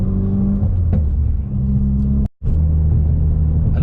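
2017 Ford Focus RS with an aftermarket Xtreme clutch and catless downpipe, a loud close rumbling engine with rattly clutch chatter, cut by a brief dropout partway through, no talking.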